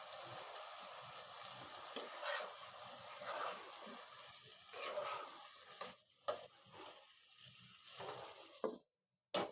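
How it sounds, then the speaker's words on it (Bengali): Cooked lentil dal with drumsticks is tempered with spices in hot oil, giving a sustained sizzle and spatter mixed with stirring scrapes against the pot, then a sudden cutoff near the end. "ডালটা হয়ে গেছে, আমি ফোড়ন দিয়ে নামিয়ে নেব।"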